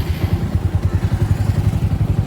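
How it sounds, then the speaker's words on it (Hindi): A motorcycle engine, just started with the self-start button, runs loud and close with a steady rapid low thumping idle. "तो मेरी मोटरसाइकिल जो है वो स्टार्ट हो चुकी है।"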